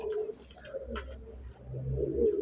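Pigeons coo in a loft with their grown young, giving soft, low, throaty calls that swell and fade close by, with light rustling and faint chirps mixed in.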